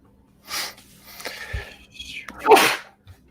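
A single sharp sneeze bursts out close by, preceded by a quick inhale and some faint breathy sounds.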